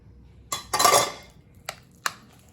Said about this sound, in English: And just give that a good stir.